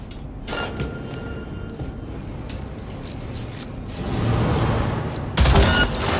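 Gunfire in the Cyberpunk 2077 action game: a rumbling, scraping background that builds into a loud, harsh burst of shots near the end.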